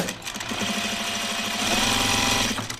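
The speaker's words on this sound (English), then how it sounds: "I'm going to top stitch my center back seam." Close, steady whir of a heavy sewing machine running continuously as it topstitches the center back seam of pajama bottoms, with rapid rhythmic needle chatter.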